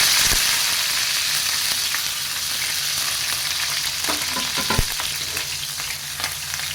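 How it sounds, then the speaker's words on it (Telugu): Sliced onion and curry leaves frying in hot oil, a steady dense sizzle running the whole time with a few sharp crackles and pops, close and loud, no talking. "ఈ ఉల్లిపాయ అనేది బాగా ఎర్రగా వేగిపోవాలండి. బాగా గోల్డెన్ కలర్లో వచ్చేలాగా మనకైతే మంచిగా వేగిపోవాలి."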